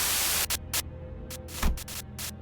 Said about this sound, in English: a sudden buzz of white noise breaks through the truck silence